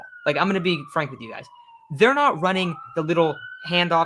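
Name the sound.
police car sirens passing outside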